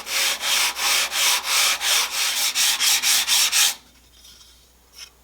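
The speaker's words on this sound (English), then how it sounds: "I'm just going to sand back and forth until I've touched all the frets" Sandpaper rubbed back and forth across ukulele frets on a flat table saw top to level them, a steady run of about a dozen even, close, loud strokes that stop abruptly, with faint handling noise after.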